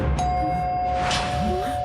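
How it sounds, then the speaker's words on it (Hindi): A doorbell in a horror film gives a single clear electronic ding with a sustained tone that rings on, close and fairly loud, while faint voices stir in the background. "हाँ यार, डोरबेल की आवाज आई।"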